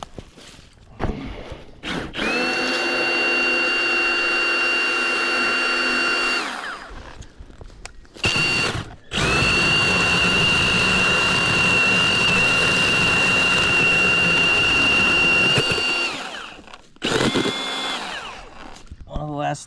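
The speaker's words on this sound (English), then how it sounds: "we're going to take out this tree with the hatchet" A Milwaukee Hatchet battery-powered pruning saw cuts brush and a small tree while woods are cleared, giving a loud, steady, high motor whine in long bursts with brief pauses between cuts.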